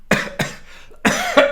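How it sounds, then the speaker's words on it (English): Three sharp, close coughs from one person in a quick uneven burst, loud and dry, with no speech around them. "It made me cough."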